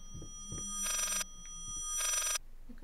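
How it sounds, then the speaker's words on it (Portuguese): An old telephone bell rings twice in the horror video game Layers of Fear, two bright sustained bursts with a pause between them over faint ambient tones, fairly loud and without speech. "Que é isso? Isso é um telefone."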